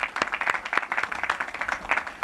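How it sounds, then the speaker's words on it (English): A crowd applauds at an outdoor National Night Out community event with the mayor and police chief. The clapping is brisk and sustained, with many hands at once, close and fairly loud for the whole stretch. "Could we give them a round of applause?"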